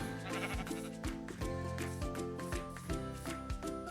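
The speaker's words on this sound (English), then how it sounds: "It's a sheep." Sheep in the Minecraft video game bleat in short, repeated calls over steady, stepped melodic tones of game sound, all fairly quiet and with no talking.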